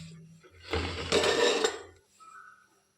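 Appam in a kitchen being covered with a lid, a short clattering burst of metal cookware lasting about a second, followed by quiet.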